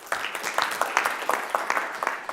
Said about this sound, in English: another round of applause for Kahootify